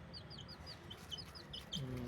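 Chicks peep in quick high bursts, with a hen's low clucking close by and steady, no voices.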